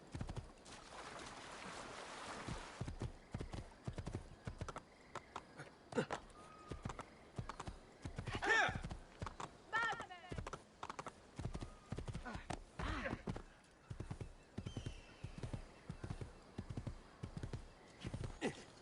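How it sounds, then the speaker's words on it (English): Horse hooves clip-clop steadily at a gallop in Assassin's Creed II, with a brief whinny partway through and game sounds and a voice talking over the repeated hoofbeats. "I'm just gonna do what Geralt does and call every horse I ride Roach"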